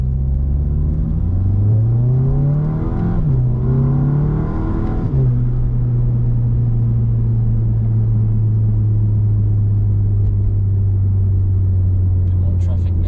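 A VW MK7 GTI engine revs and shifts through a few rising pitch sweeps, then settles into a steady, loud low drone at about 3,000 RPM while cruising. Road rumble sits underneath throughout.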